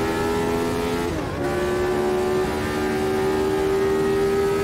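Lotus 79 race car engine in Automobilista 2, a loud, steady high-revving whine from onboard with a brief dip in pitch as it shifts, then holding constant.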